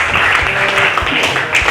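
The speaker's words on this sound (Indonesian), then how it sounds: "Tepuk tangan." A classroom of students clapping together for a classmate in a sociology lesson, a loud, even patter that fills the whole moment with little talk.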